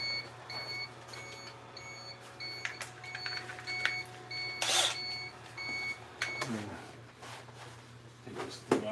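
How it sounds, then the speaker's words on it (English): An electronic device in a woodturning workshop gives a repeated high beeping in evenly spaced pulses, moderately loud over a low steady hum, with a brief rustling burst midway. "This beep, beep, beeps driving me nuts."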